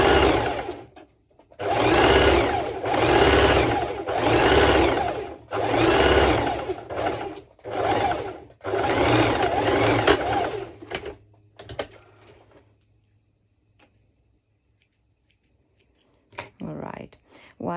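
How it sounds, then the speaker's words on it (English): A domestic sewing machine runs a parallel stitch across two layers of fabric on a triangle kimono panel, whirring in several loud, close bursts with short stops between, and a voice comes in briefly near the end. "first I'm going to do a parallel stitch all over the triangle part"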